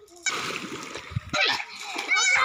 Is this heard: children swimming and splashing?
yes